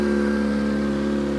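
A Kawasaki ZX25R motorcycle holds a raised warm-up idle around 3000 rpm, a steady, loud, close-up whirring engine drone with no change in pitch or any voices.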